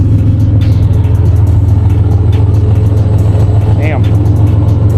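A supercharged Nissan 370Z is heard from inside while driving, with a loud, steady low engine drone and rumble under light ticking from the cabin, and a brief faint squeak near the end.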